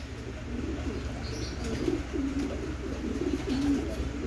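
Racing pigeons coo in low, rolling repeated calls at a loft during a race release, steady and fairly close over a constant background hum.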